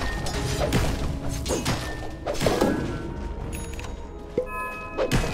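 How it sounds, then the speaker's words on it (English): Thuds and crashing hits land on a Dota 2 tower under attack, several heavy impacts spaced irregularly over a steady game background with whooshes between them. "Dire's top tower is under attack."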